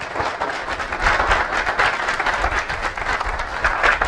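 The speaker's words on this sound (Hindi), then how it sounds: "जोरदार ताली मतलब जोरदार ताली।" Audience at a training session applauds loudly, a sustained wash of many hands clapping together at an even, steady level with no pauses.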